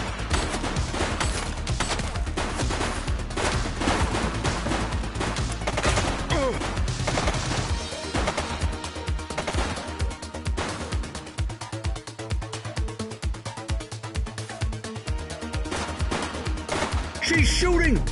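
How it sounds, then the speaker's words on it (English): Gunfire in the police game The Precinct, busy volleys of shots over a dense, continuous game soundtrack, with voices calling out at points. "She's shooting!"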